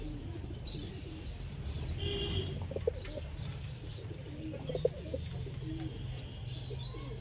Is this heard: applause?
no